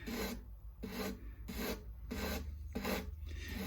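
320 grit sandpaper worked by hand on the wooden part of a Squier Korean-made Strat, loud close rasping strokes in a steady back-and-forth rhythm of about six passes, alone.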